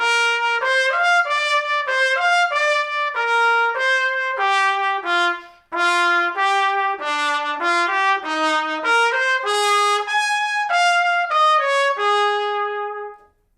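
A C trumpet plays a bright, clear solo melody of many quick, distinct notes, loud and close in a quiet room with one short pause partway through.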